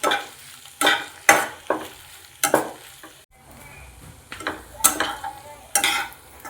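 Leftover cooked rice fries in a pan with Schezwan sauce and red chilli powder while a spatula stirs it, giving repeated loud scraping strokes over a continuous low sizzle.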